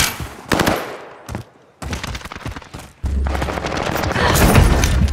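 Video game gunfire comes as rapid machine-gun bursts broken by short pauses, then turns into a loud, sustained barrage with heavy low-end thumps, close and intense.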